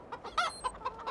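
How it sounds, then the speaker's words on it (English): A rooster clucks in Farming Simulator 2013, several short, moderately loud clucks spaced irregularly over a second with no talk over them. "That rooster is one lucky rooster indeed."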